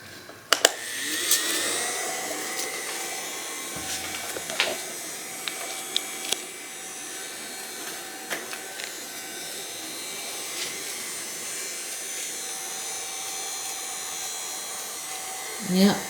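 A cheap $5 cordless vacuum cleaner runs steadily on low pile carpet, a continuous motor whine with a few clicks and bumps, close and fairly loud.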